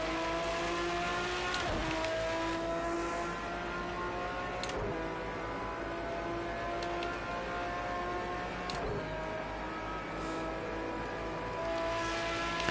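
A race car at Le Mans holds a steady high-speed engine drone with layered harmonic whine, broken by a few brief sharp clicks or bumps, close and continuous with no talking.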